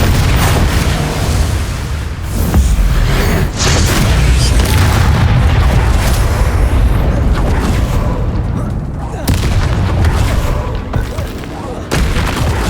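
Confringo spell explosions in Hogwarts Legacy, loud booming blasts that come in repeated heavy bursts with dense combat noise, close and continuous throughout.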